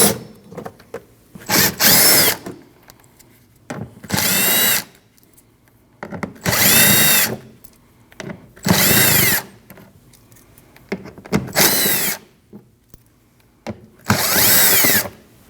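A power tool spins out the 8 mm and 7 mm bolts holding the front wheel liner on a 2013-2019 Ford Escape 1.5L, firing in six loud, close bursts of a couple of seconds each, separated by quiet pauses.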